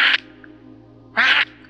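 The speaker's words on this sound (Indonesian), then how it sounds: "Suara burung gagak itu datang lagi, lebih nyaring dan lebih dekat." Two harsh, nasal bird calls ring out close and loud, a short squawk at the start and a longer one after a pause, over a quiet background hum; the calls stand in for a crow cawing in a horror tale.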